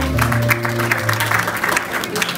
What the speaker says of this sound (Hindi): पहले तो सबसे पहले इनके लिए ढेर सारी तालियां